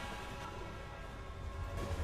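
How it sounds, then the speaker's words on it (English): A train rumbles past in a video game, a low steady roar with a rising swell near the end, fairly quiet and with no talking over it. "Oh my god, I just got clipped by the train."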